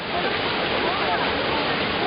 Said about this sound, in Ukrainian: Зараз ми будемо підходити ближче до водоспадиків